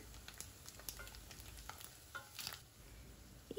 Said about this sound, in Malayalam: എണ്ണ നന്നായിട്ട് ചൂടായി വന്നാൽ ചെമ്മീൻ ഇട്ട് കൊടുക്കാം ഹൈ ഫ്ലെയിമിൽ വെച്ചിട്ട് നന്നായിട്ട് ഫ്രൈ ചെയ്തെടുക്കാം